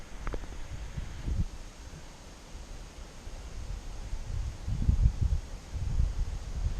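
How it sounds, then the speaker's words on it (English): Wind gusts buffet the microphone outdoors in low, rumbling bursts, with faint rustling and no speech. "If you can hear it's windy"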